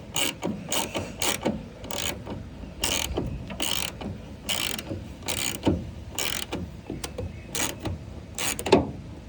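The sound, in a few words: bolting taillight onto 1999 Ford F250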